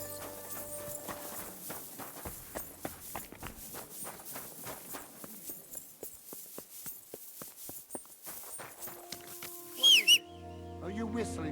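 Hooves clip-clop in a steady rhythmic gait across ground in Kingdom Come: Deliverance 2, the footfalls moderately close and gradually slowing, with a short whistle and bird-like chirps near the end.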